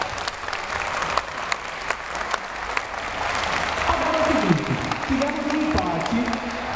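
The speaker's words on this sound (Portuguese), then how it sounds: "Uma salva de palmas também para todos os competidores que participaram." An audience at a competition applauds the competitors, sustained clapping from many hands throughout, with a voice speaking over the later part.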